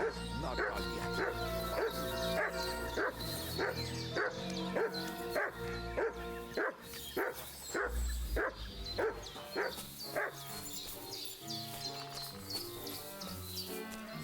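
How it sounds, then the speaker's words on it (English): A dog companion barks repeatedly in the medieval role-playing game Kingdom Come: Deliverance II, a run of sharp, rhythmic woofs and yips close by over a musical score, a voice talking at points. "What's he barking about?"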